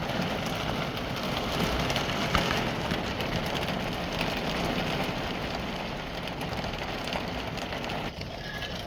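Heavy rain pounds steadily on the roof of a van, a dense, continuous patter heard from inside, fairly quiet and unbroken.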